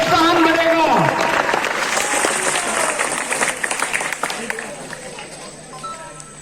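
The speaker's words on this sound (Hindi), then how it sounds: "कृपया इतनी पब्लिक है, एक बार तालियां आपकी मिल जाए तो इन बच्चों का प्रोत्साहन बढ़ेगा।" Outdoor crowd applause at a Ramlila stage performance during a Dussehra festival, loud at first and thinning over several seconds, mixed with crowd murmur and voices.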